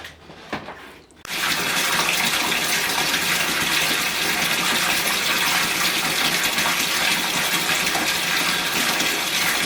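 A bathtub filling from the tap at home: after a brief quiet start, a loud, steady rush of running water pours in and continues unbroken to the end, with no voices.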